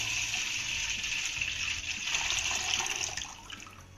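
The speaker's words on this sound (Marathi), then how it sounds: "आता यामध्ये ना आपल्याला 2 ग्लास पाणी घालायचंय." Water pours in a steady gush into a large pot for several seconds, then tapers off toward the end.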